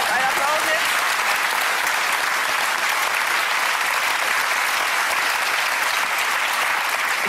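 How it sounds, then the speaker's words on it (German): A German television talk show's studio audience breaks into loud, sustained applause, an even, dense clatter of many hands that continues for over seven seconds without letting up. "Ja, ein Applaus jetzt."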